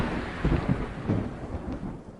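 A thunderstorm with low rolling thunder rumbles over steady heavy rain, the booms swelling and fading across a short stretch with no voices.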